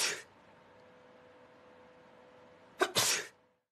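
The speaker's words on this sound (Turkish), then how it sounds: "İlk önce hapşırma." A single human sneeze bursts out near the end, a sharp two-part expulsion after a quiet stretch of faint room tone, captured in a droplet-spread experiment setting.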